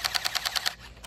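A gel blaster fires a quick burst of about seven gel balls, each shot a sharp snapping pop in a rapid, even rhythm, close and fairly loud, with a single fainter pop trailing after.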